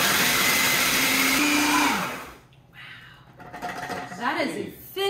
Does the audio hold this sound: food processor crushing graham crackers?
yes